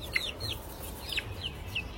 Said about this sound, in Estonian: Vaata, need kanad kardavad mind